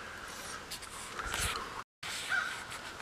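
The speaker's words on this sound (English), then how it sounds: "We got these crows down here." Crows caw in the woods during an afternoon squirrel hunt, a few harsh calls at moderate distance within about three seconds of outdoor ambience.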